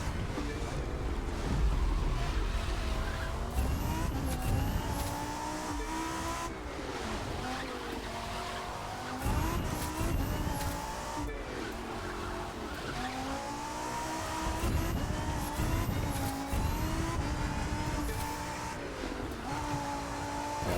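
Hurricane car in The Crew 2 racing flat out, engine rising and falling through gear changes with repeated tire squeals and skids, loud and close over about twenty seconds.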